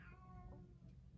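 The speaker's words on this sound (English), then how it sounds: "that's my cat" A house cat lets out a drawn-out meow, fairly close, with a wavering pitch over a steady low background hum and no talking.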